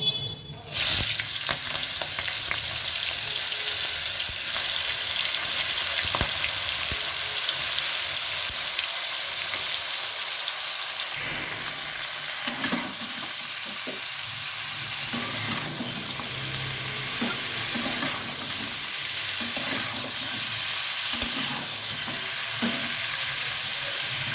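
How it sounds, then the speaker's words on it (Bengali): Loud, steady sizzling of salt-and-turmeric-coated prawns frying in hot oil, continuous throughout, with occasional stirring and spattering. "এখন আমি এই তেলের মধ্যে দিয়ে দেব নুন হলুদ মাখানো চিংড়ি মাছগুলো।"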